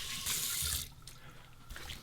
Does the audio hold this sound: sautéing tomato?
no